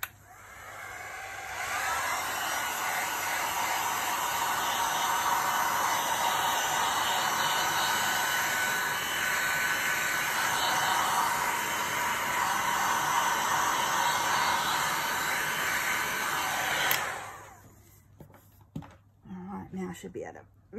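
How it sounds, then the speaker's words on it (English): A heat gun blows over a resin dirty pour of a dolphin, a steady, loud broadband whoosh that holds for about seventeen seconds and then cuts off, leaving faint handling sounds. "I'll just heat a little bit with the heat gun."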